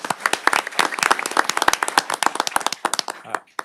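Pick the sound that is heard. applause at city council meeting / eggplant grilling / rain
applause at city council meeting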